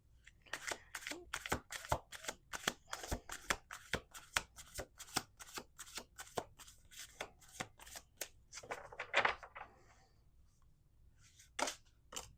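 Rapid riffling of playing cards, repeated in quick bursts with sharp snaps, close up and alone, then a pause before a final riffle.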